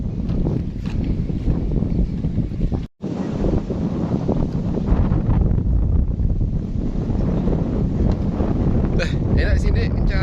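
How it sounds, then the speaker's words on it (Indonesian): Strong wind gusting at Menralo beach in Pinrang, South Sulawesi, roaring and buffeting a nearby microphone almost nonstop, loud and close, with a brief dropout early on and faint surf underneath. "enak sini kencang angin"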